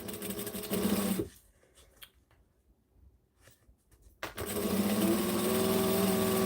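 A domestic sewing machine stitches fabric in short bursts, its rapid mechanical whirring loud and close, stopping abruptly for a few seconds of near quiet before starting up again and running steadily.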